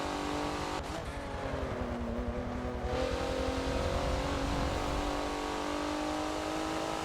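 A race car engine screams through hot laps of Road Atlanta in a Forza racing game, revving loud and close with a brief shift dip before winding steadily back up through the gears.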